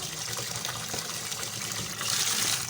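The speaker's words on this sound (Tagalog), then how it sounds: "Dagdagan ko siya ng konting tubig guys." Water poured in a steady trickle into a pot of boiling herbal leaves from soursop, guava and avocado, a continuous close splashing that swells louder toward the end.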